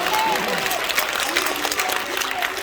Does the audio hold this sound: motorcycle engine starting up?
no